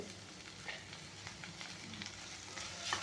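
Onion, garlic, green chilli and curry leaves fry in a pan with a soft, continuous sizzle and faint crackles. The sound is close but quiet, with no talk.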